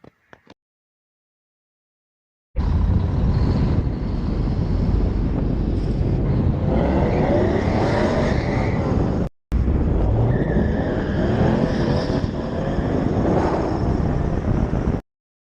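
A Trans Am driving up and down a street, heard as a steady, loud roar with heavy wind rush on the microphone. It starts abruptly, cuts out briefly, then resumes, with no talking.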